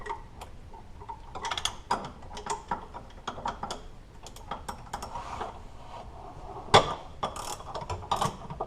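A ratchet loosens the engine mount bolts on a Ford Focus. Quick clicking pawl strokes come in uneven bursts, close up, with a few metallic clanks and no speech.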